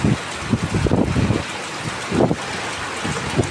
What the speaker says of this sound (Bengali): এই যে দেখেন বিশাল বাতাস, হ্যাঁ বাতাস।